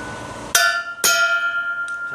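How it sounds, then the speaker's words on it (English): A hammer taps a propeller hub out of a turbo propeller while changing the hub, giving two sharp metallic ringing strikes about half a second apart with a fainter third tap, each decaying with a bell-like ring, no talk. "Tap it with a hammer."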